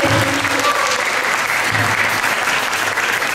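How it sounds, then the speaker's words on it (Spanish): Steady, loud applause from an audience at a Catholic spiritual retreat greeting a priest, a dense sustained wash of clapping hands throughout. "un aplauso para el Padre Javier"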